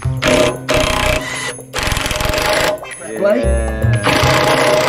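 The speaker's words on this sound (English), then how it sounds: "He's brought his nut gun." An impact nut gun works loose a badly corroded bolt on a Series Land Rover being built into a tow truck, rattling in loud repeated bursts with short pauses between them, while people talk nearby.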